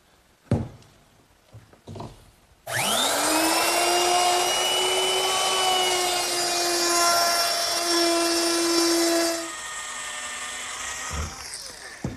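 A power tool chamfering the edges of an oak backsplash held in a vise: a few faint knocks, then a loud sustained high whine that runs for about seven seconds before dropping to a quieter hum and stopping.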